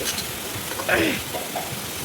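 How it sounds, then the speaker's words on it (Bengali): Fish frying in hot mustard oil in a wok, an even close sizzle with a brief louder hiss and some stirring scrapes. "কড়াই সর্ষের তেল গরম হয়ে গেছে, তার মধ্যে দিয়ে এটাকে ভেজে নেবো ভালো করে।"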